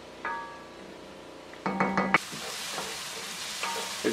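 Mushrooms fry in a wide pan with onion-flavored oil and butter, giving a close sizzle that swells into steady frying, with metallic utensil clinks and stirring scrapes against the pan.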